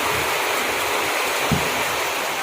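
Heavy rain pouring steadily, a dense broadband hiss like rushing water that stays constant and loud throughout, with no voices.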